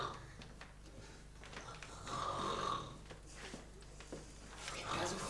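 A woman snores in her sleep, slow raspy breaths rising and falling faintly in a quiet room, with low background noise.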